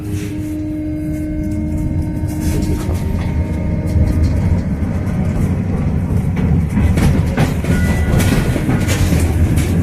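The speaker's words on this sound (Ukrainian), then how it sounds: "Пропоную проїхати зі мною трамвайчиком 23" Interior of a Kharkiv tram on route 23 along Traktorobudivnykiv Avenue on a cold, snowy December day: steady low rumble of the car rolling on rails with clickety-clack and rattling, continuous and close throughout.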